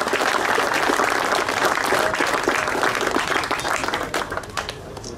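Audience applause at a martial arts prize-giving ceremony in Wattrelos, a full, sustained round of clapping from a crowd that tapers slightly toward the end.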